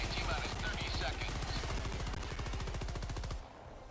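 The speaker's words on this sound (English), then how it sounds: "The machine guns just feel so nice in this game, dude." Rapid, continuous machine gun fire from the video game Helldivers, a steady stream of fast evenly spaced shots over loud battle noise, with talk faintly underneath, cutting off near the end.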